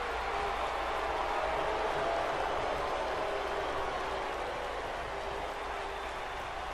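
Wrestling arena crowd roaring and cheering during a handicap match, a dense, steady wall of cheers and shouts from a large audience throughout.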